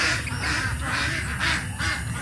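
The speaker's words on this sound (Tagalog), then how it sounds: "Marami ding manok dito." Poultry call repeatedly and loudly up close in a rural Bicol yard, a dense overlapping chorus of honking, clucking cries with no talk.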